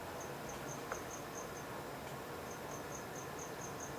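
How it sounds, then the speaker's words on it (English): Repeated cricket chirps indoors, steady pulsed trills in two bursts separated by a short pause, faint and fairly distant against a quiet room hiss. "Did a cricket make it in?"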